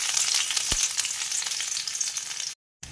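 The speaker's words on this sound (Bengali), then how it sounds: "কড়াতে তেল দিয়ে দিয়েছি। এবার এতে দিয়ে দেবো কেটে রাখা রসুনগুলো" Chopped garlic fries in hot oil in a wok, giving a loud, dense, even sizzle close by, with one dull knock partway through before a short silent gap.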